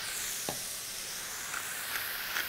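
Beef mince for chilli fries in a hot pan, giving a steady, quiet sizzling hiss with a few brief sharper crackles and spatters, close up and with no talking.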